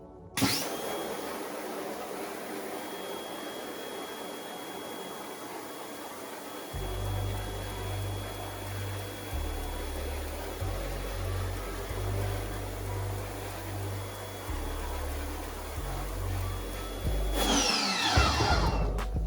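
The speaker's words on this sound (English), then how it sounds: "let's use our pressure washer and pressure it out" A pressure washer blasts emulsion off a screen printing screen at a home setup, giving a loud, steady rushing hiss. A deeper pump motor hum surges in and out partway through, and no one talks.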